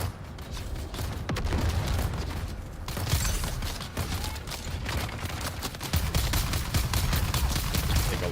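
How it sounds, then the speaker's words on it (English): Sustained gunfire in the Deep Desert zone of a survival game, dense and continuous, with heavy booming blasts layered in, a grenade going off amid the shooting and no speech over it. "Grenade."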